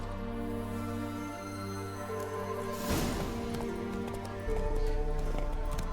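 Horse galloping during a race in The Witcher 3: Wild Hunt, steady hoofbeats pounding at a fast rhythm close up under a droning game score, growing louder toward the end.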